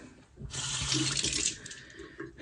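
Water runs from a tap onto a hair brush, a bright rushing splash that starts abruptly, holds for about a second, then tapers off, close and fairly loud with no talking.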